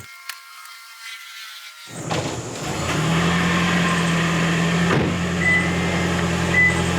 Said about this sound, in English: you can hear the engine coming on